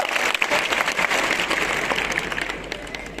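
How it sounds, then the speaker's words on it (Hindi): An event audience breaks into dense, sustained applause that gradually tapers off, with faint voices underneath. "ताली नहीं बजाएंगे?"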